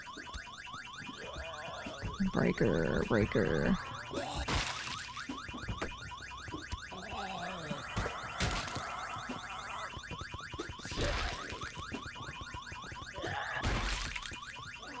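An alarm blares inside the horror video game Vein, repeating in a loud electronic pattern throughout, with thumps and brief footstep-like noises over it and a voice speaking briefly.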